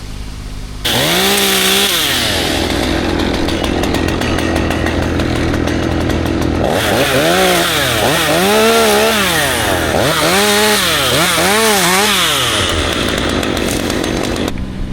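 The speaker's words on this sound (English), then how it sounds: "If you hear the chainsaw running up here, look for it" A chainsaw runs loudly nearby, cutting into a maple during a tree removal, its whine rising and falling repeatedly as the throttle is worked, with a brief drop in power near the middle.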